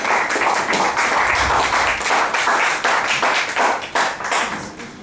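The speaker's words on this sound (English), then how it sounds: "Let's have a little warm round of applause for Stephen" An audience at a Web Wednesday tech meetup in Hong Kong gives a warm round of applause for a man called to the stage, dense continuous clapping close and loud with no talk.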